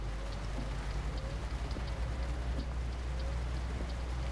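Continuous rain pattering on surfaces at night in the trucking game Euro Truck Simulator 2, a steady wash of drops over a low, constant engine rumble with no talking.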